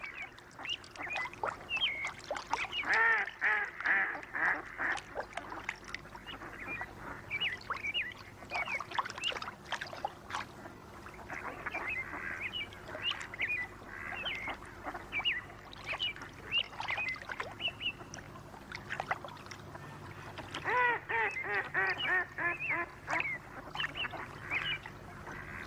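Ducks along a river gather to feed, giving scattered quacks and calls at moderate distance over soft flowing water, with clusters of calls early and late.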